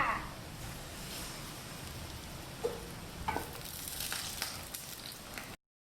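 Steady crackling sizzle of a seaweed omelet egg frying in hot oil, close and fairly quiet, with a few sharper pops and spatters.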